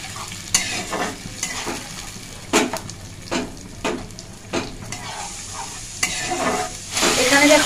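A spice paste of cumin, chili and turmeric powder with tomato sizzles in a pan for vegetarian ghugni, while a spoon scrapes and stirs it in repeated strokes, loud and close.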